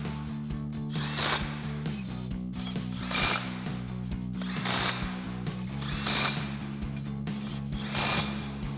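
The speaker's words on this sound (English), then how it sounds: "you want to grab a thin wall 19mm socket, and we're going to tighten these down" A thin-wall 19mm socket on a ratchet tightens wheel spacer nuts on a Ford Bronco, giving repeated bursts of rapid ratcheting clicks over a steady low hum.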